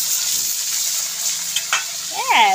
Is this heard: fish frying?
yes